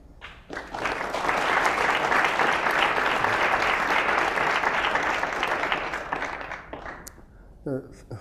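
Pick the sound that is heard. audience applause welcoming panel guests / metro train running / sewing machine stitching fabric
audience applause welcoming panel guests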